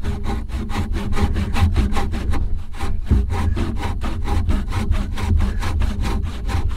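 A $13 handsaw cuts through rain-weathered wood in a fast, steady back-and-forth rhythm, with close, loud rasping strokes and a brief pause partway through.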